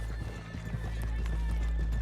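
Horses' hooves clip-clop in an irregular walking rhythm on a town street in the Red Dead Redemption 2 game, close and clear over a low rumble, with a horse whinny mixed in.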